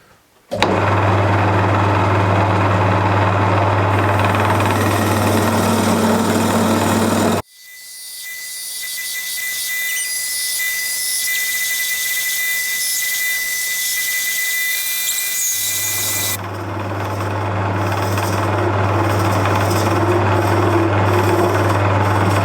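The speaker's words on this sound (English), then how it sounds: "So I'm going to be tapering it down to a little peak down at this end." A wood lathe tapers a small cherry wood Christmas tree with loud, close, continuous scraping and rasping against a steady motor hum, with a brief pause partway through before cutting resumes.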